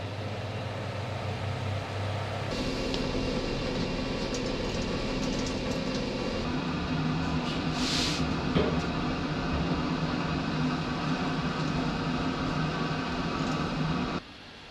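A pellet stove's fans run steadily after switch-on, a dense continuous mechanical whir and hum that kicks in near the start, holds level throughout and cuts off at the end, close and fairly loud with no talking.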